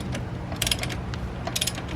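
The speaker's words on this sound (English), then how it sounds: "whenever you get to that certain force, it'll click, as you guys can hear, like that" Torque wrench clicking while tightening wheel nuts on front Weld drag-racing wheels, with two short bursts of sharp ratcheting clicks over a steady low hum.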